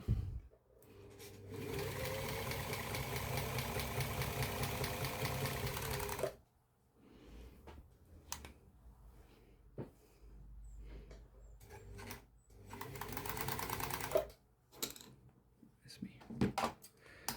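An overlocker sewing machine, converted into a badge edger, whirs in two fast bursts along a fabric edge, the first about six seconds long, with quiet handling clicks and fabric rustles between them.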